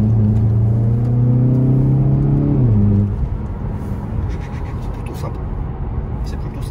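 Volkswagen Golf 7 GTI facelift engine revving, a loud steady high-rev drone that drops in pitch and settles into a rough idle rumble, with faint talk over it.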